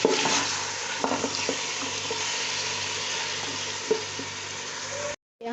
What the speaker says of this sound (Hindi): अब हम इसको अच्छी तरह से मिक्स करेंगे, हिलाएंगे, फ्राई करेंगे हल्का हल्का सा